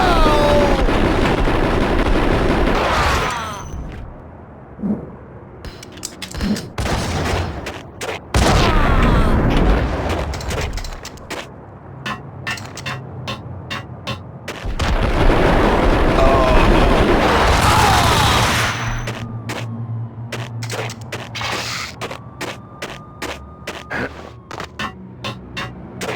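Gunfire in the video game Max Payne: loud bursts of rapid shots and booming impacts, dense volleys alternating with sparser sharp cracks over a low hum, with short quieter gaps between barrages.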